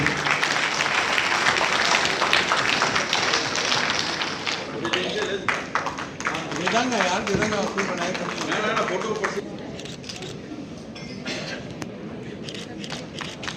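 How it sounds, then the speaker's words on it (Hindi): Audience applause at a Lions Clubs district conference in a hall, loud clapping mixed with crowd noise and voices, thinning out toward the end. "तालियां बजती रहनी चाहिए।"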